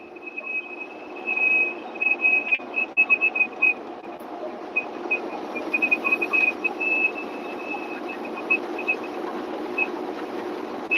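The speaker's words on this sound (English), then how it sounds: "There's stuff on the outside of the truck that whistles like that." Wind whistles past fittings on the outside of a big rig truck cruising down the highway: a thin, steady high whistle that flickers in short bursts over a constant rumble of road and cab noise.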